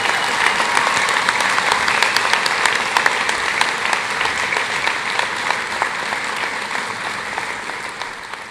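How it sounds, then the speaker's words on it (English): Loud, sustained applause fills a college commencement ceremony as a large standing audience honors Academic Achievement Award winners, a dense, steady roar of many hands clapping with sharp individual claps poking through and slowly tapering toward the end. "allow us to give you a round of applause for our Academic Achievement"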